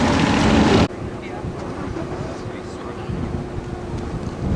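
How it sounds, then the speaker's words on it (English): Strong wind buffets the microphone on a 1,500-foot mountaintop at Bar Harbor, Maine, in a loud roaring rush that drops abruptly, leaving a steady lower rumble of blowing air. "Windy here, windy"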